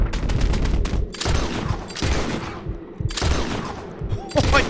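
Gunfire from Red Dead Redemption 2, a loud burst of several close shots at the start, then more volleys in bursts across the stretch, with quieter gaps between them.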